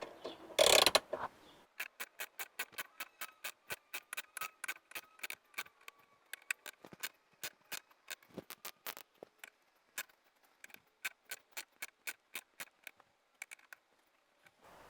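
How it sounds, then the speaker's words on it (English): Ratchet loosening the nut on a rear sway bar link of a 2002 Chrysler PT Cruiser: a long run of sharp, evenly spaced clicks in quick bursts, close and clear, after a brief clunk at the start. "Loosen the nut from behind, but do not take it out"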